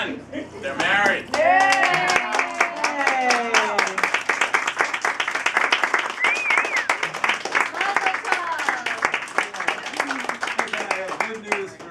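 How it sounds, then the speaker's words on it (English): Guests at a wedding ketubah signing break into applause, a sustained patter of many hands clapping close by, under and between people talking and laughing. "But thank you for the applause"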